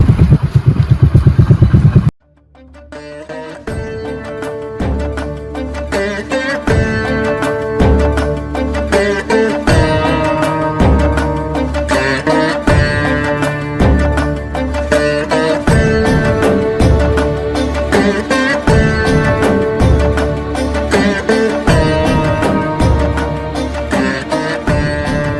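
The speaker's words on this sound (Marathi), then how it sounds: "बाईक विली मारलेली विली." Motorcycle engine running loud and close during a wheelie, with a steady drone and rhythmic throttle pulses sustained for over twenty seconds after an abrupt cut from a louder opening burst.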